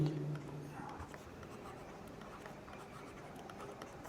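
Marker or pen writing on a board or paper during a K-map lecture, faint scratchy strokes in short repeated bursts, quiet and close in a hushed room.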